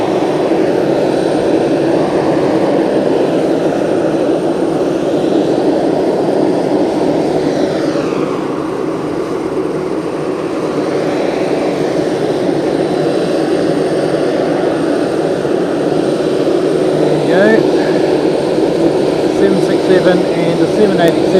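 A Boeing 787 at Fukuoka Airport gives a steady, loud, continuous engine roar with a sustained whine, holding level throughout without talk.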